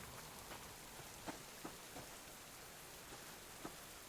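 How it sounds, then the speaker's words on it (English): Steady rain falls in the Subsistence survival game, a soft, even hiss with scattered sharper drops landing on surfaces, fairly quiet and with no voices. "Oh my God, it's raining again."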